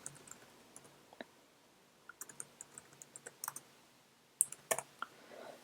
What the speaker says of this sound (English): click on the American flag, and we click on the language that we want